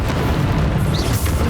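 A Bombarda spell explosion in the Hogwarts Legacy video game on Switch, a loud, dense blast that roars steadily for a moment with no talk over it.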